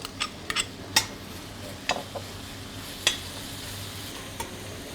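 Ginger and chicken fry quietly in a pan under a low, steady sizzle, while a utensil scrapes and taps against the pan in a few scattered strokes.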